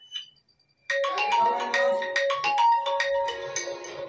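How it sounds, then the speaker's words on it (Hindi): A mobile phone ringtone plays a bright melodic tune that starts after a near-silent second and rings steadily, fairly loud and close, with no talking over it. "फोन आ रहा है तुम्हारा,"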